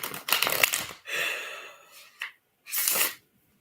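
Quick bursts of playing cards riffling and fanning together, two main shuffles with a short snap between, close and clear with no talking.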